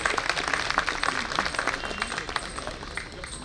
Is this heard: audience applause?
yes